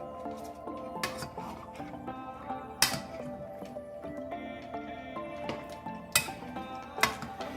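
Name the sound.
stirring Sicilian cucuzza soup in a pot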